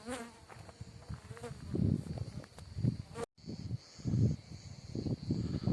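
Close, loud buzzing of honeybees around an apiary swelling and fading as they fly past, with several overlapping drones and a brief dropout midway.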